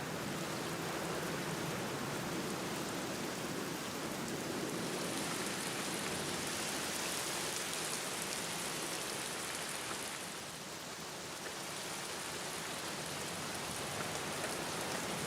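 Steady rain pours down in a Black Mirror adventure game scene, an even, dense hiss of falling water heard alone and unbroken throughout, with a slight dip in intensity partway through.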